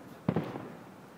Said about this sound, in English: It's like their own private fireworks show.